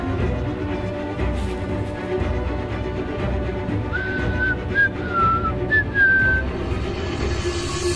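Someone whistles a few short, clear notes over a rough, noisy background, the tune rising and gliding.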